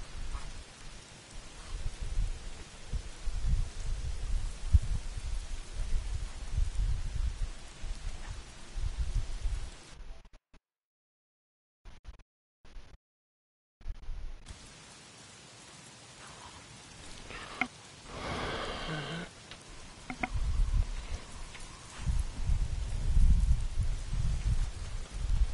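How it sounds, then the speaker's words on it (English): Steady rain hisses across the soundscape of the video game Days Gone, a dense, even wash that briefly drops out to near silence midway before returning just as full. "If it's not the freaks, it's the goddamn rain. Why is it always raining?"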